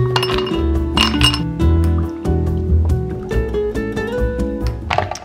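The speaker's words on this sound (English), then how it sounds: "pour it in some cups with some ice" Orange juice is poured into cups over ice, with ice cubes clinking against the cups and liquid trickling and filling up close, in clear repeated tinkling bursts and no speech.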